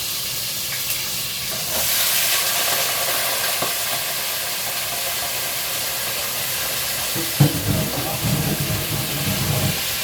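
Fresh pork frying in very hot oil, a loud, steady, dense sizzle with hissing spatter throughout, a sharp pop near the end and a brief clatter just before it.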